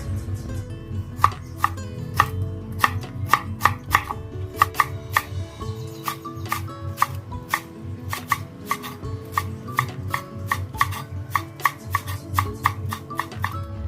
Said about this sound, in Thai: แล้วเราก็นำมาหั่นให้เป็นท่อนสั้น ๆนะคะ